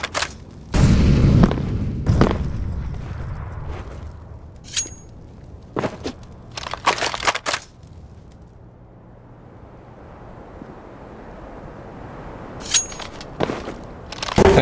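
An incendiary grenade is thrown in Counter-Strike: Global Offensive, opening with a heavy, close boom followed by scattered sharp cracks and snaps over a low, fading rumble.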